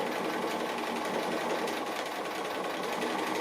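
A sewing machine runs steadily, stitching along the edges of a fabric appliqué, a continuous close mechanical whir with no pauses.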